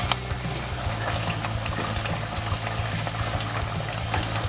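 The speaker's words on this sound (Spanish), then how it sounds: "echamos los sobres de tinta ahí y removemos bien" Squid ink sachets poured into a cooking pan of stuffed baby squid, with a steady bubbling, sizzling liquid wash running throughout and no talking.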